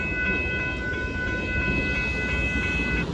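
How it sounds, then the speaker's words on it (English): A northbound Union Pacific hopper car freight train rumbles past at Dittmar Road in Austin, Texas, with rolling low noise while a steady multi-tone horn sounds throughout, loud and fairly close. "there goes the Northbound Union Pacific hopper car train plus the horn show"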